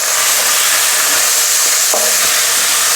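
A pan of chopped onion, fresh garlic and ginger with salt fries on a medium-high gas flame, giving a loud, steady sizzle with a brief stirring scrape.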